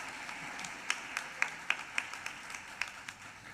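Sparse, faint handclaps at a college winter graduate commencement ceremony: a handful of separate claps spread irregularly over a few seconds against a quiet room hum, with no voices.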